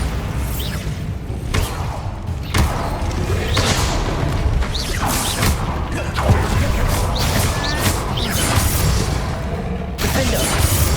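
Bombarda spell blasts in Hogwarts Legacy, a run of heavy booms and crashing impacts every second or two, loud and close, layered over busy combat noise.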